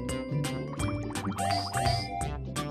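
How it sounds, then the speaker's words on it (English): Cartoon soap-lathering squish effect from a children's alphabet learning app, a run of wet bubbly squelches and drips over a bright musical background, steady and close. "First, soap the letter up."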